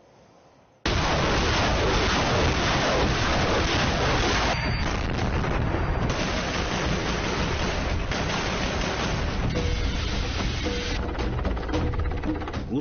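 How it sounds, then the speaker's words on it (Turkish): After a quiet start, a loud, sustained roar of explosions and rumbling booms erupts in Bryansk, Russia, near the Ukrainian border, continuing unbroken, harsh and distorted. "Rusya güne patlama sesleriyle uyandı."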